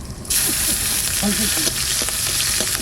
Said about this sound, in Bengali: তেল দিলাম তেজপাতা আর জিরে দেবো